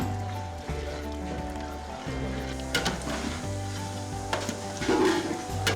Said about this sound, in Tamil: ஆயில் பார்க்குறீங்க நீங்கள், கம்ப்ளீட்டாக பாயில் ஆகிட்டுருக்கு